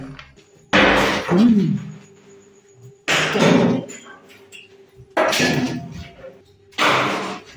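A door bangs and slams on its own inside a building, giving four loud, heavy thuds spaced a couple of seconds apart, each followed by a short rattle.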